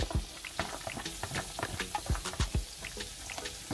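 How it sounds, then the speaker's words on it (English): Steady crackling sizzle with scattered pops and spatters as shallots and onions fry in hot oil in a pot, close by and moderately loud throughout. "sizzling, so I'm going in with my shallots and my onions"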